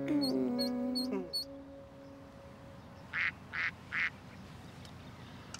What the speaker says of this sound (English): Two little ducklings. Quack, quack, quack.